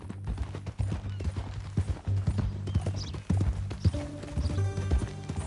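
Horse hooves clip-clop in Red Dead Redemption II gameplay, a steady close trotting rhythm of hoof strikes with some game ambience and a brief tonal sound near the end.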